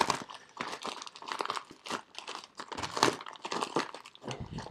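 A hot glue gun parcel from AliExpress is unwrapped with steady, close crinkling and rustling of plastic packaging that runs in uneven bursts for several seconds, with no talking.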